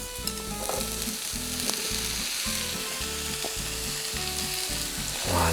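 Bell pepper and zucchini frying in a pan, a steady loud sizzle with a rhythmic hum and tonal accents from the cooking, ending in a brief louder hiss.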